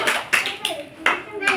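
Children clap their hands together in a primary school classroom in Odisha, giving five sharp, evenly spaced claps that sound close and fairly loud.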